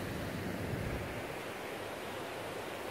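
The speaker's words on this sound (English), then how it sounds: "It's a waterfall." Victoria Falls pouring in a steady, dense roar of falling water, broad and continuous with no pauses, heard alone without voices.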